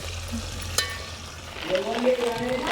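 Green chillies and tomatoes fry in a pan, a soft steady sizzle with a sharp clink of a utensil and stirring sounds, heard close and fairly quiet.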